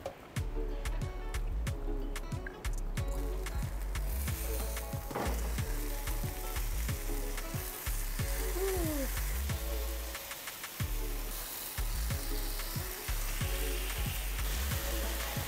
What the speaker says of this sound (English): we're gonna cook the burgers on each side for about 5 to 6 minutes